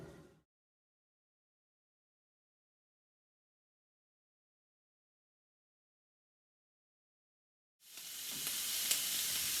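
Capsicum and bacon sizzle in a hot oiled pan, a dense steady frying hiss that cuts in near the end after a long silence.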